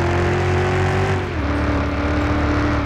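SRT Viper engine in Car Mechanic Simulator 2021, held at a low steady throttle, droning loud and close with a tone that sags slightly partway through, alone with no talk.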